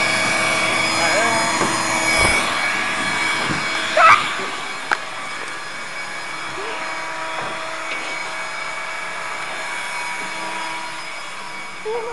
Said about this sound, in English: Here I go, playing with the vacuum.